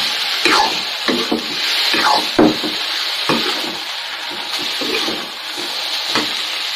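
Food fries in a pan with a steady sizzling hiss, broken by repeated clattering stirs and scrapes at an irregular pace, heard up close with no talk.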